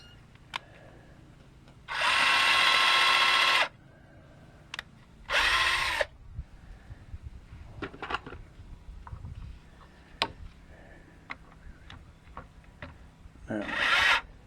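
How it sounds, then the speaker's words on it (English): A power drill boring holes in wood while building a raised garden bed outdoors, with two loud sustained bursts of whirring, a later short burst, and clicks and handling noise between them as people talk faintly. "I guess you're gonna drill a hole in it."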